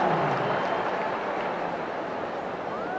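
Stadium crowd applauding during Pope Francis's visit to Indonesia at Stadion Madya, a dense, steady wash of clapping and crowd noise that stays loud and even from start to finish.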